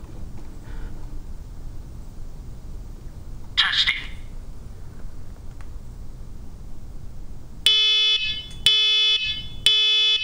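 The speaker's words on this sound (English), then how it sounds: "There's a test mode, which will actually simulate a smoke and carbon monoxide alert." A home automation smoke and carbon monoxide alarm in test mode sounds loud, piercing electronic beeps in three bursts near the end, following a stretch of quiet room hiss and a brief chirp.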